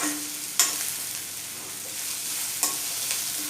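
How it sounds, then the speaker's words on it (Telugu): Ginger-garlic paste and curry leaves frying in a pan for a chana dal tomato curry, a steady sizzle with two sharp scrapes of a spoon stirring, close and even. "1 స్పూన్ అల్లం వెల్లుల్లి పేస్ట్ వేసుకుని 1 రెబ్బ కరివేపాకు కూడా యాడ్ చేసుకుని అల్లం వెల్లుల్లి పేస్ట్ పచ్చివాసన పోయే వరకు వేయించుకోవాలి."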